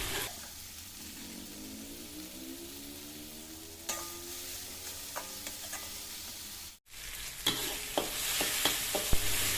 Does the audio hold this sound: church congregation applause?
no